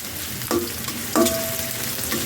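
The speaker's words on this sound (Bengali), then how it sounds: "একটু বেজে নেবো ডালটা বের হওয়ার জন্য তো গাছ আমার পেঁয়াজ রসুন বাজা হয়ে গেছে" Chopped onion, garlic and green chili frying in a pan, a steady close sizzle punctuated by two or three brief spatula scrapes and clinks as the mixture is stirred.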